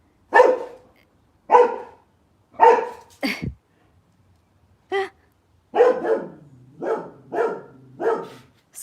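Dogs barking in a run of loud, close, separate barks spaced by short pauses, with one higher yelp mid-sequence and a quicker volley of barks toward the end.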